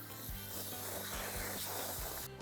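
Hose water sprayed onto a freshly caught blacktip shark before filleting, a continuous loud hiss with a few low thumps and rustles, close and steady, ending in a sharper burst.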